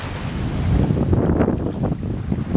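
Gusty wind roars across a sailboat at sea off Samana Key, steady and loud with surging puffs, alongside the wash of breakers and water, and no one speaking.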